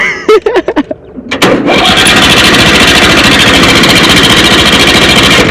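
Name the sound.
tractor diesel engine idling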